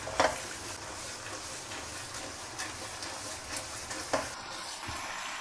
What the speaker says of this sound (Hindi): चार 5 मिनट के लिए मसाले को हम और भूनेंगे।